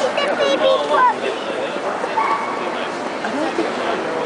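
A puppy barks and yips in short bursts amid a noisy dog-show crowd, with people talking close by throughout.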